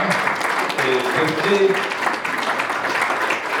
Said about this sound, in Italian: che un applauso per lui, no?